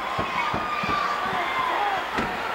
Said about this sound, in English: Look at this tremendous uproar of this crowd here at the Sam Houston Coliseum.